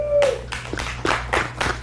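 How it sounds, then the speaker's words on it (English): A studio audience claps in rhythmic bursts, about six quick rounds of hand claps close to the microphone, over a low steady hum. "Give him a cheer."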